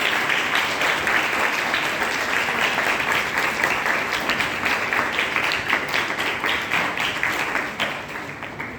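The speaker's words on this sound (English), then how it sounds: "Let's give them a huge round of applause." A school event audience gives sustained applause, a thick, even wash of many hands clapping that continues for most of nine seconds and only eases slightly at the end.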